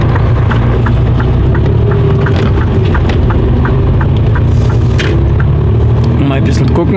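A truck cruising on the road after unloading in Neuburg, with a steady loud low engine drone and road rumble throughout, plus faint rhythmic clicks from the cab.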